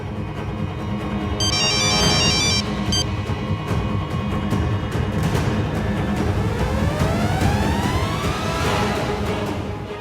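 An incoming phone call rings with a bright electronic ringtone, its repeating melodic pattern sounding loud and steady above a dramatic music score that swells beneath it, with no one talking.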